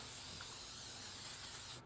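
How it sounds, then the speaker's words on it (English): A steady, close hiss of an aerosol can spraying cooking oil for nearly two seconds, then cutting off abruptly. "Handy dandy spray oil, cooking spray."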